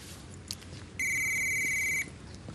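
A telephone rings once with a bright electronic tone lasting about a second, loud and clear above quiet room ambience, with no talking.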